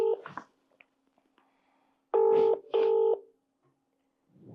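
Telephone keypad tones sound while a live call is dialled: a few short beeps, then two clear, loud tones in a row separated by silence, with a voice starting at the very end.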